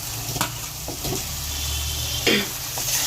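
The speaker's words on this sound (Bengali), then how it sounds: "আলুর সাথে মশলাটা ভালো করে কষিয়ে নেওয়া হচ্ছে" Fried potatoes sizzling in oil with a cooked-down spice paste for an egg and broccoli curry, a steady close sizzle broken by a few scraping stirs of the spoon against the pan.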